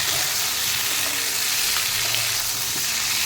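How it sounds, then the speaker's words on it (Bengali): Potatoes fry lightly in a pan with a loud, dense, steady sizzle up close, broken only by faint shifting and stirring noises. "এই যে আলুটা হালকা ফ্রাই করে নেব"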